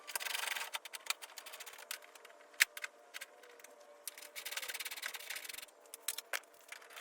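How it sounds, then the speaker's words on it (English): Headlight mounting screws on a Toyota Tundra being loosened and backed out with a 10mm socket: light scraping and ratcheting clicks in short bursts, with a few sharper ticks, close and fairly faint, no talking. "So we're gonna unscrew these and pull our headlight"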